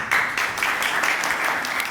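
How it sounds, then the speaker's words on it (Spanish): An audience applauds a speaker at a talk on frost impacts and prevention, a loud steady burst of many hands clapping at close range, heard alone without speech. "Un aplauso para él."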